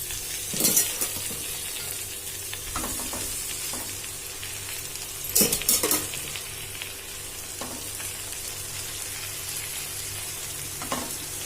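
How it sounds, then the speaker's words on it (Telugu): Amaranth leaves are dropped into a hot pan with curry leaves and stir-fried, giving a constant sizzle with loud scraping stirs and occasional utensil clinks against the pan. "ఇప్పుడు తోటకూర వేస్తున్నాను దీంట్లోకి"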